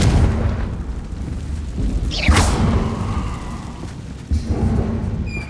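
A Confringo blasting spell from Hogwarts Legacy explodes in a game scene, a loud booming burst with a sharp crackling streak, followed by a second thump a couple of seconds later over steady rumbling game ambience.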